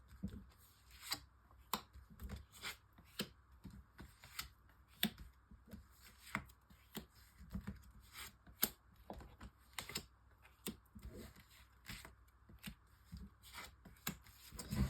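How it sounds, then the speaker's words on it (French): Tarot cards are shuffled and drawn for a nine-card reading, with steady close riffling and crisp individual card snaps and slaps recurring throughout at a quiet level, no talking. "tirage en 9 cartes pour nos amis taureaux"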